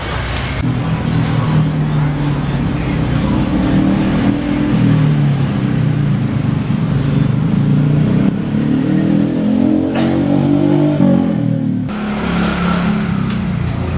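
Bored-up 145cc Yamaha Jupiter Z motorcycle engine with a 58.5 mm piston, running loud and close in a steady idle that swells into revs around the middle and near the end, with no talk over it.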